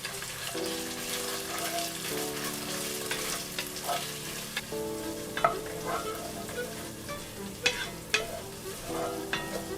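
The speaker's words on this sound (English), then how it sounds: "I'm going to go in with some tomato paste. And I want to fry that well until the oil takes on a red color." Tomato paste frying in oil for jollof rice, a constant crackling sizzle with sharp spoon scrapes and stirs growing busier toward the end, close and prominent, with no talking.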